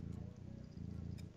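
A cat purrs up close in a steady, low rhythmic rumble that pulses continuously throughout, with no talking over it.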